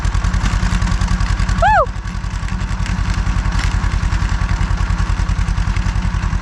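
A heavy tractor engine chugs steadily nearby on a farm field with a rapid, even low thump, and a brief rising whistle-like tone cuts in once partway through.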